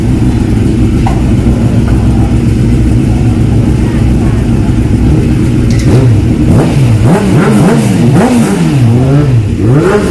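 Race cars revving loudly as they pull out of the pit lane at Chang circuit, engine notes rising and falling in sweeping pitch bends over a steady crowded drone, with voices and pit noise mixed in.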